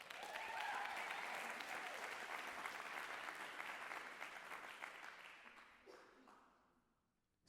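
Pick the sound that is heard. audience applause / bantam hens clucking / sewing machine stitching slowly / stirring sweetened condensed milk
audience applause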